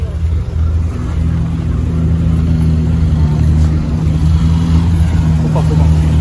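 McLaren supercars driving through a São Paulo street, a loud steady engine rumble close by that holds constant without clear revving peaks, with people talking over it.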